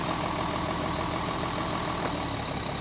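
A gas engine idling roughly with one spark plug wire pulled, a steady, close, continuous engine rumble with a slightly uneven churn and no voices.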